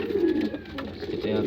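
Domestic pigeons kept by a pigeon fancier coo softly and steadily in a loft, a low murmuring close by with faint background noise.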